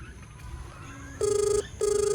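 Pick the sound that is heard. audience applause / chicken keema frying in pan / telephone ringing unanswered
telephone ringing unanswered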